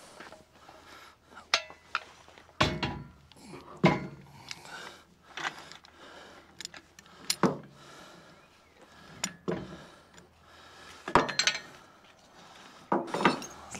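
An old winch being fitted onto a jon boat trailer for a 1977 Polarkraft, with scattered metallic clinks, taps and knocks of hardware at irregular intervals, fairly close and quiet between hits.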